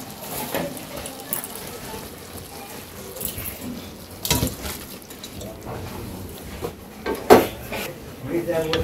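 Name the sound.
cooking pot taken off the stove, kachki fish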